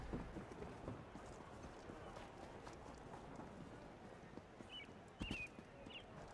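The Ghost Horse mount in Elder Scrolls Online sets off at a faint, steady run of hoofbeats over low ambient game noise, with one louder thump near the end.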